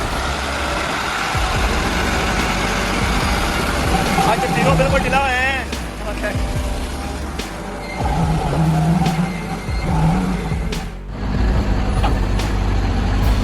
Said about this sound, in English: Huge trucks, roaring like beasts, were working hard on the construction site.